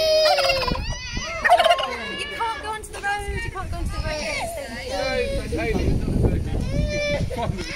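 A turkey gobbles loudly and repeatedly at a neighbours' outdoor birthday celebration in Coventry, UK, its rattling calls close by amid chattering voices and wind buffeting.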